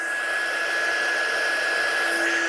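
Up close, a hair dryer blows ink dry on white cardstock with a loud, steady whooshing hum and a constant whine that holds through the whole clip.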